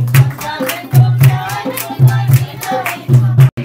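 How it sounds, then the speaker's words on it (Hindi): Rhythmic dholak drumming with deep booming strokes and sharper slaps in a lively repeating pattern, heard close with chatter in the background at a Pakistani dholki celebration with a live barbecue. "ये आप ढोलकी की आवाज़ सुन सकते हैं"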